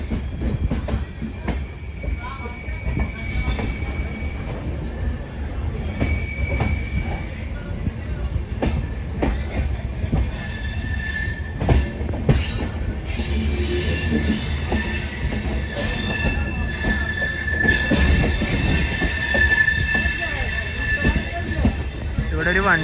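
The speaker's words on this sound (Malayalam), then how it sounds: "ട്രെയിൻ ഇപ്പോൾ ഉദ്ധംപൂരിലേക്ക് എത്തിക്കൊണ്ടിരിക്കുകയാണ്" A train from Katra to Jammu Tawi, approaching Udhampur, rolls along the rails with continuous rumbling and high wheel squeals, loud and close, heard from a second-class coach, with voices talking faintly underneath.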